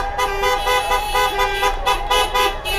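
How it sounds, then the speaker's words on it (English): Several car horns honk loudly and repeatedly beside a street march at a vigil in Kansas City, Missouri, overlapping toots and longer blasts close by amid traffic. "you can also hear cars honking in support"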